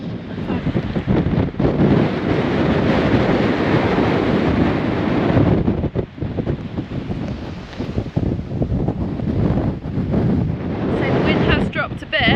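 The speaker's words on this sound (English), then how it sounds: "We had about 80-90 mile an hour gusts, but it's dropped down to probably about 50-60." Strong storm wind gusts from Storm Floris battering a campsite, a loud continuous roar buffeting the microphone with brief dips and surges throughout.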